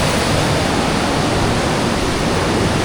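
Lipit Secret Falls, a waterfall on a rainforest-like trail in Pangasinan, pours in a loud, steady broadband rush that stays constant throughout, close by and with no voices.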